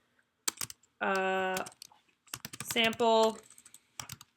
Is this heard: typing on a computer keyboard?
yes